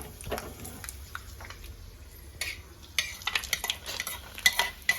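Cashews fry in a kadai for vermicelli payasam. A spoon scrapes and stirs them with soft sizzling, quiet at first, then sharper scraping clicks grow busier and louder toward the end.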